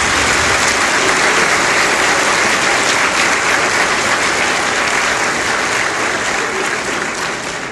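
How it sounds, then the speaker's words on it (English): Audience applause at a veterinary college professional welcome ceremony, loud, sustained clapping from a large crowd filling the room, steady and continuous before slowly tapering off near the end. "Give yourselves a round of applause for this significant achievement."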